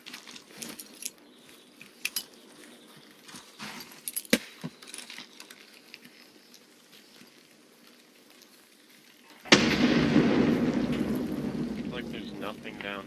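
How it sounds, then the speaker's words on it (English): A grenade goes off in a PvE shooter video game. After a quiet stretch of faint clinks and movement, a sudden loud blast erupts and tails off into a sustained, rumbling roar. "I'm gonna throw a grenade down."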